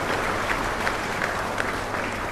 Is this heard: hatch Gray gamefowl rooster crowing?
no